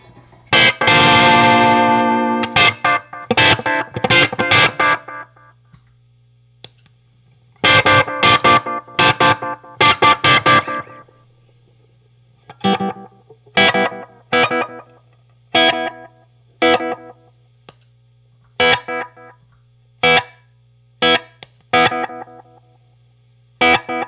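Electric guitar through a Boss DM-2 analog delay pedal plays sparse, choppy notes and chords, each repeating in fading echoes, with a steady low hum running underneath throughout.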